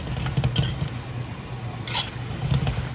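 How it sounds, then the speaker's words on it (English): Chicken stew for Jamaican brown stew chicken is stirred in a pan, giving a soft wet churn with a few light clinks of the spoon against the metal. "we just drop that into our pan and just get it all stirred up"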